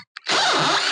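An Ingco 20-volt cordless drill drives a 2-inch screw. A short trigger blip comes first, then a loud, close motor whir whose pitch sags and wavers as the screw bites into the wood.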